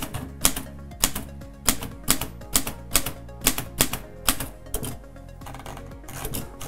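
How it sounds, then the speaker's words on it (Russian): A 1934 stenographic typewriter in a typewriter museum strikes keys in quick, steady bursts, each sharp clack close and loud over a faint mechanical hum, with no talking. "В завершение давайте напечатаем название нашей программы."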